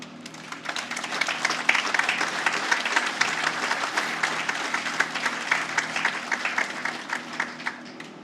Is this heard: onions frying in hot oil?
no